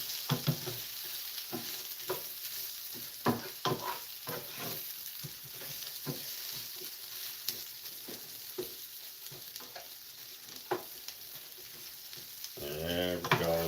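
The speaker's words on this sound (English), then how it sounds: "There we go, the onions mixed in with the potatoes." Onions mixed with potatoes fry in a pan with a steady sizzle, broken by repeated scraping stirs, and a brief tonal noise near the end.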